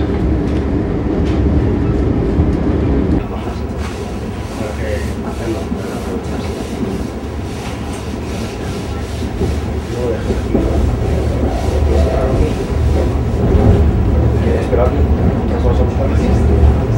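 An Amtrak California Zephyr rolls along the rails with a loud steady rumble and rattling clatter that swells toward the end, while voices talk over it at times.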